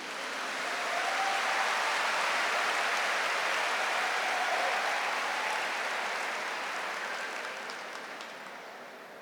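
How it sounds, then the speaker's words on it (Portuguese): A church congregation applauds at a prayer service, broad steady clapping filling the room from the start and tapering slightly toward the end, with no voices over it. "Aplaude esse Deus maravilhoso."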